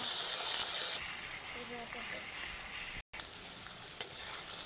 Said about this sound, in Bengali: এইবার দিয়ে দেব আদা রসুনের বাটা আদা রসুনটাকেও এক মিনিট মতন ভেজে নেব